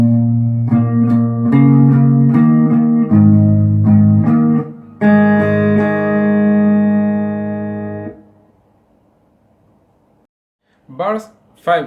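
Guitar strumming one bar of a song intro across the 3rd, 4th and 5th strings with up and down strokes, a run of close chord hits ending in a long ringing chord, then near silence and a brief voice.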